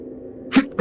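A person sneezes close by, a short breathy burst that is quickly followed by a second quick sneeze-like burst, over a faint low background hum.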